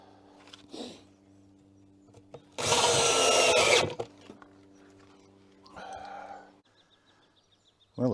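A power drill drives a screw into a metal bracket on a hothouse propagation bench built from recycled fencing rail and weld mesh, a single loud whirring burst of about a second, with lighter tool handling before and after.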